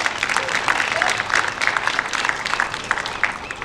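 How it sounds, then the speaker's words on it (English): Crowd applause at the Japantown Peace Plaza renovation groundbreaking ceremony in San Francisco: a moderately loud, dense patter of many hands clapping steadily throughout, with a faint murmur of voices underneath. "yes, you can applaud for that."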